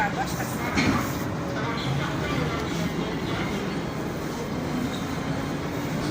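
Tashkent metro train heard from inside the carriage: a continuous rolling rumble and rattling hiss of the moving car, steady and fairly loud, with faint voices in the background.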